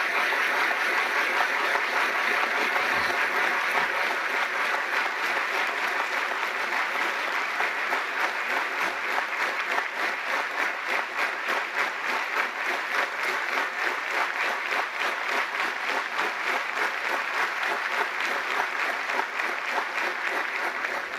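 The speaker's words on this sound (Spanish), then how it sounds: "pido un fuerte aplauso de felicitación y reconocimiento a los educadores cubanos" A large assembly audience at a parliamentary session closing gives long, steady, dense applause honoring Cuban educators, sustained evenly at full strength throughout.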